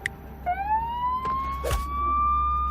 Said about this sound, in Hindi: मैंने फिर वही ट्रिक यूज की और मोबाइल में पुलिस सायरन बजा दिया।